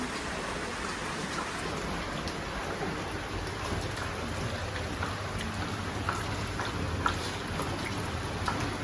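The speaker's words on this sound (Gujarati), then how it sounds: "રસ્તામાં વરસાદ આયા રસ્તામાં વરસાદ જાય" Steady rain falls in an even, close hiss with occasional drips and taps on surfaces, no voices.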